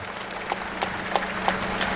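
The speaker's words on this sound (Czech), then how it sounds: "Já panu Obrtelovi váš potlesk vyřídím" An outdoor crowd at a street demonstration in Prague applauds steadily, a dense patter of many hands clapping at a moderate distance with no speech over it.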